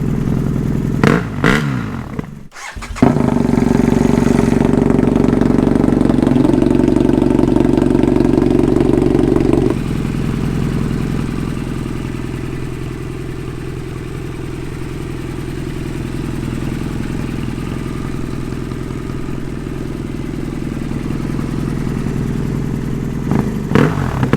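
A BMW F800GS motorcycle with a Danmoto XG-1 exhaust and baffles installed runs with a muffled, subdued exhaust note, steady and close, with a brief louder rev early on before settling into an even drone.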